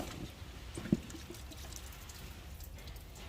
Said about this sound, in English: So we're going to go ahead and take it loose, and we'll drop it into our drain pan and let it drain.